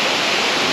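Waterfall in Pakse, Laos, a steady, loud broadband roar of falling water that stays constant and close throughout, with no voices.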